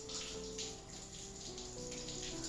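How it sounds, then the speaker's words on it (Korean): Lukewarm shower water sprays steadily over a wool-thread French embroidery of mimosa, rinsing away water-soluble stabilizer; a continuous, close hiss of running water with no talk. "이제 샤워기 물로 수용성 심지를 녹이 없앱니다."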